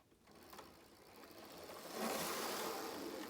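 A Hornby Class 110 model locomotive's electric motor whirs at high power, a steady mechanical hum that swells and grows louder and busier toward the end, close and alone.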